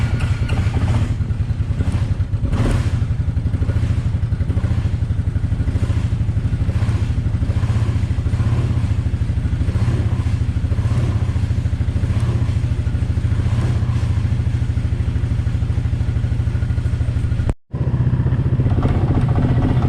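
A Suzuki Quadrunner 250 ATV engine idles steadily after a cold start at -13°F, a loud, continuous low chugging with some mechanical clatter that cuts out briefly near the end before resuming.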